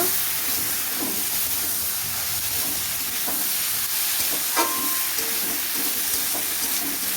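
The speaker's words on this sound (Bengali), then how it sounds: "চিংড়িগুলো সবজির মধ্যে দিয়ে দিলাম। তার সাথে মশলা, সবজি, মাছ কষিয়ে নেব।" Prawns fry with vegetables and spices in a pan under a steady, loud sizzling hiss, with occasional scraping and stirring knocks and no talking.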